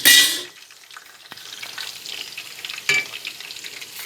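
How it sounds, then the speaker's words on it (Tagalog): Chicken pieces frying in a pan until brown and crispy, for chicken ala king: a loud opening sizzle burst, then a quieter crackling fry with occasional stirring clinks against the pan. "Piniprito ko pa. Kailangan talaga nito medyo brown. Na crispy."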